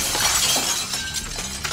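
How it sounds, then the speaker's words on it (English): Window glass smashed in a film scene, a bright sustained shattering with tinkling shards scattering for a moment, loud and close. "Once the glass is broken"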